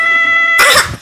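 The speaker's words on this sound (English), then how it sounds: "Angry cat!" An angry cat in a video game lets out a single loud, harsh hiss-yowl lasting under half a second, cutting in over steady background game tones.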